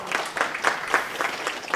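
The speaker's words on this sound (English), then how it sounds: "So again, give yourselves a round of applause." An audience at a business training session breaks into steady applause, a dense patter of many hands clapping at moderate volume through a short burst.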